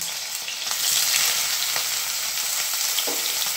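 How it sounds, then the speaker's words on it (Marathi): Bitter gourd frying in a little oil, a continuous close, bright sizzle with faint scraping stirs and occasional soft clicks, no voices. "थोडंसं तेलामध्ये परतून घेते"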